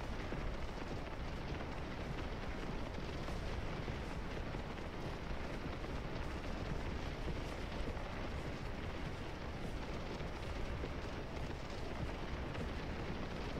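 Massed musket volleys from Civil War troops in the Scourge of War battle game at Antietam, a dense continuous rumble of gunfire and booms filling the whole stretch with no talk.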